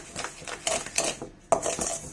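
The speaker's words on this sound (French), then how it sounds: "Donc on peut le mélanger un peu." A utensil clinks and scrapes in a bowl while washing soda and citric acid powders are mixed for homemade dishwasher tablets, a few light, close metallic taps and scratches.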